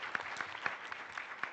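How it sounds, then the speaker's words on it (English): Brief, faint applause from an audience at an arbitration event awards ceremony, a soft patter of claps with a few sharper ones standing out. "Let's give them a round of applause."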